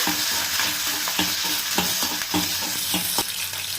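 Steady, loud sizzling of onions sautéing in hot oil, with a few scraping stirs breaking through the hiss.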